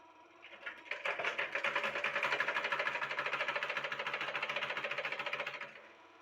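Sewing machine stitching a pant seam in a steady, rapid mechanical rattle that starts up, runs evenly for several seconds, then stops, heard close and alone.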